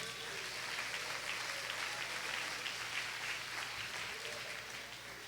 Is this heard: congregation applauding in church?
yes